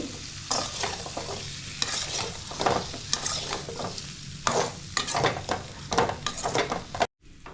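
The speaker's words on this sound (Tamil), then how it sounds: "நல்லா எல்லாத்தையும் போட்டு நல்லா ஒரு 5 நிமிஷம் ஒரு கிளறி விட்டுடலாம்" Eggplant and masala being stirred in a frying pan, with repeated scraping strokes of a spoon over steady sizzling oil, close and clear with no talking.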